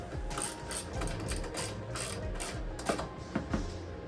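Ratchet tightening bolts on an Ultra Racing strut tower brace being installed on a 2009 BMW Z4, with rapid repeated clicking strokes close up and a few sharper knocks near the end.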